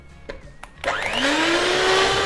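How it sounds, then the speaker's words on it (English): An electric whisk whirs to life in a bowl of traditional Polish babka batter, its motor rising steadily in pitch and holding a loud, continuous buzzing drone after a few quiet knocks. "Now just for a few seconds, I'm going to move on to my electric whisk."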